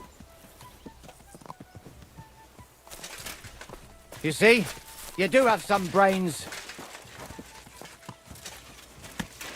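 Horse hooves clip-clopping in the medieval game Kingdom Come: Deliverance II, soft and intermittent in the background while someone speaks a short line and birds chirp faintly.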